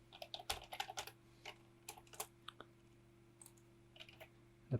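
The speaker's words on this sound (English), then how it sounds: "Type in your email address here." Typing on a computer keyboard, a quick uneven run of soft key clicks close by and faint, with short pauses between bursts and no talking.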